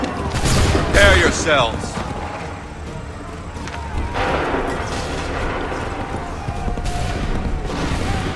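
Musket volley gunfire in Assassin's Creed 3 at the Battles of Lexington and Concord, a burst of crackling shots near the start over a dense battle din, with a commander's voice calling out during it.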